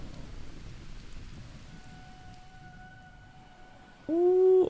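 Steady rain from the video game The Touryst hisses as a continuous wash with faint rumbling underneath, followed by soft tonal game sounds and a brief loud synth chime at the end.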